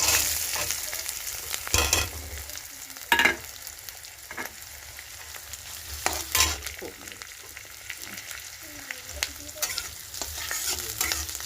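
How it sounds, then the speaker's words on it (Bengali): Onion frying in hot oil with cumin seeds and dried chilli, a continuous close sizzle broken by loud scraping and clattering stirring strokes, with no talking. "জিরেগুলো ফুটে গেলে পেঁয়াজটা আমি দিয়ে দেবো"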